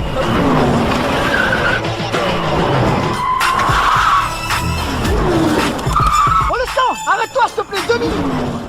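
Cars race and skid through a film chase scene, tires squealing in long rising and falling screeches over loud engine roar, with a flurry of sharp squeals near the end and some background voices.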